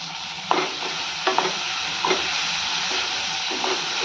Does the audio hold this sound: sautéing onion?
yes